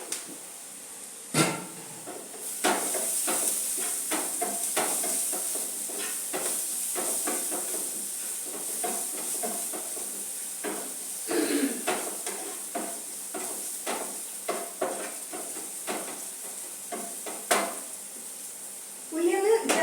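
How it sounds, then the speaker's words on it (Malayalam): Onion sautéing in a pan for a cluster bean thoran, a steady hiss of sizzling oil broken by repeated clicks and scrapes of a spatula stirring against the pan. "ഉള്ളി ഒന്ന് ചെറുതായിട്ട് വഴറ്റി വന്നിട്ടുണ്ട്."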